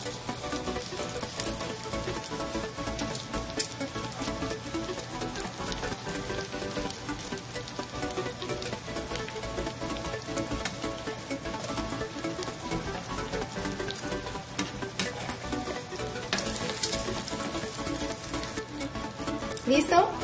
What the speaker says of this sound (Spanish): Vamos a ponerlas en una sartén con un poco de aceite y vamos a sellar.